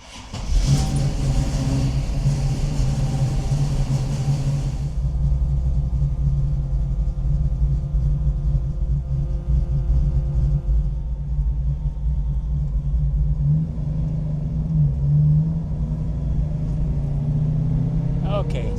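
A restored Tiger car's engine rumbles low and steady as it pulls away in first gear, revving up midway, while a person talks over it.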